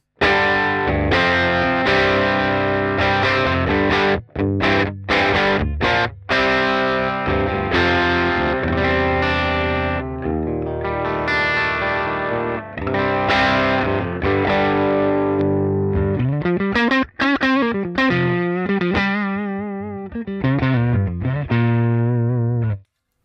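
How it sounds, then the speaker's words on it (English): A heavily distorted electric guitar plays loud, sustained chords and riffs through a Vox AC30 speaker, with brief cutoffs and a bending, wobbling passage near the end. "let me show you what the guitar sounds like straight in"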